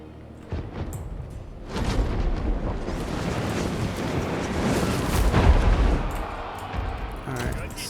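Artillery bombardment in Total War: Three Kingdoms, heavy booms landing one after another into a thick rumbling barrage, loud and close, with blasts swelling and overlapping for several seconds.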